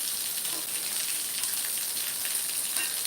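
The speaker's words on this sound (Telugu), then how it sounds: "అసలు మామూలుగా లేదన్నమాట వాన." Heavy rain pours steadily during a night power outage, a dense, continuous hiss of drops drumming on surfaces, close and loud throughout with no voices.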